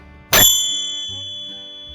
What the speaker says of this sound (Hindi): माँ चंद्र घंटा आपके पास आती है और अपनी घंटी से हीलिंग साउंड निकालती है।